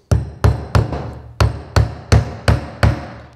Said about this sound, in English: Nails are in, simply put it underneath, lever it out.